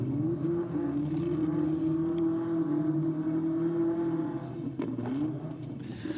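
A Nissan S15 drag car with an SR20 four-cylinder engine runs at a drag racing event, giving a loud, steady, droning engine note that holds its pitch before a brief dip near the end.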